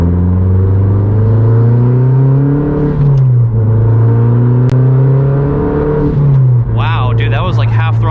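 A tuned Mazdaspeed 3 accelerates hard at half throttle from inside the cabin, its loud engine drone climbing in pitch, dropping at gear shifts and climbing again, with a voice breaking in near the end.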